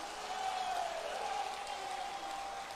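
Crowd applause at an outdoor unveiling ceremony for a statue of Samrat Prithviraj Chauhan, heard as a steady, dense wash of clapping that holds even and fairly loud throughout, with no clear gaps.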